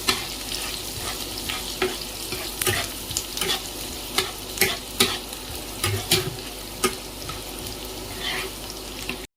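Chili chicken ingredients, including the white parts of spring onion, sizzling in a hot pan as a spatula scrapes and stirs, with sharp repeated clacks over a continuous frying hiss and no voices.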